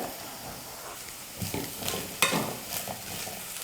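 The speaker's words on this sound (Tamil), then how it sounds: "சுண்டல் 1 நிமிஷம் நல்லா வதக்கிக்கிட்டேன்" White lima bean sundal with chopped coriander is stirred in a pan, giving a soft, steady sizzle with a few scraping strokes of the spatula, close and fairly quiet.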